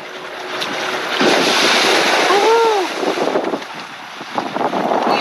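A boat comes in to dock on the beach at Gili Sundak, Lombok, Indonesia, with surf washing and wind buffeting the microphone around a steady motor rumble.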